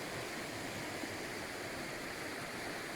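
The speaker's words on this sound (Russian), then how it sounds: "И там водопад дальше." Jägala waterfall in Estonia in December winter, partly frozen, heard as a steady broadband rushing roar of falling water from a short distance, continuous and even with no voices.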